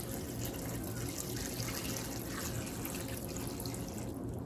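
Minced hot peppers and vinegar poured into a saucepan, a continuous close splashing, trickling liquid sound that stays steady throughout with no talk.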